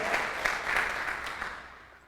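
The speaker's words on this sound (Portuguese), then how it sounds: "Dá um aplauso a Jesus." Church congregation applauding, a brief burst of dense clapping that swells and then fades out, moderately distant with no voices over it.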